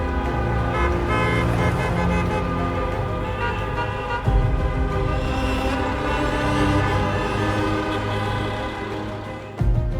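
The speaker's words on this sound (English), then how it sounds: "20 million people wake every morning to a wall of horns" Dense city traffic in Bangladesh, with car horns honking continuously and overlapping in a loud, steady wall of tones and engine rumble.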